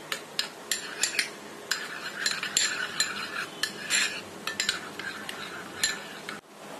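A spoon stirs mayonnaise and tomato ketchup together in a bowl, giving a quick, irregular series of close clinks and scrapes against the bowl over several seconds, with no talking.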